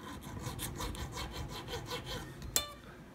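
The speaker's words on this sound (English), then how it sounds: "So when I'm not using any real pressure, I'm kind of almost like polishing the bottoms of the" Light filing across the slot of a bone guitar nut on a Stratocaster, a steady run of soft rasping strokes at close range with almost no pressure, ending in one brief sharper scrape; no talking.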